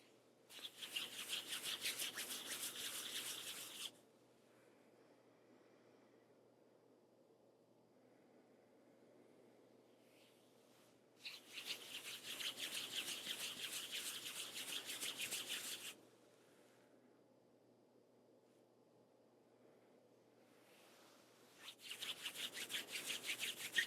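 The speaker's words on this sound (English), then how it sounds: "Hands are soft as you rub them together" Palms rub together in repeated bursts of bright, hissing friction lasting several seconds each, separated by quiet gaps. The sound is close and soft, with no talking.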